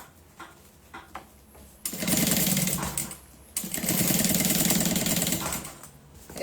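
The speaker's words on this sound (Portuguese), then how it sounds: "costurando uma caixa de leite atrás da outra" Sewing machine stitching through milk cartons one after another for a handmade bag, two loud sustained runs of rapid mechanical whirring with a short pause between, close up with quiet handling before and after.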